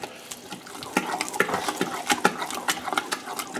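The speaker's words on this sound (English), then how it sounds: "So I'm gonna stir all this, get it all incorporated." A long spoon stirs Cajun cornbread dressing in a pot, giving irregular soft scrapes, wet clicks and taps close up, with no talk over it.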